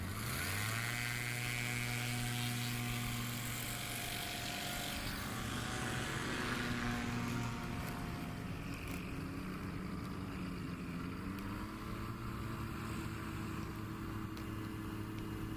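An S7 light aircraft, race number 98, runs its engine and propeller at a STOL practice airpark in Oklahoma, a loud, steady droning roar that rises in pitch and stays close throughout.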